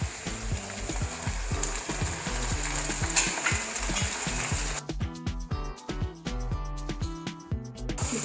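Tomatoes sizzling and frying in a pan with garlic and ginger, a steady loud crackle with rhythmic scraping stirs, close up, no talking.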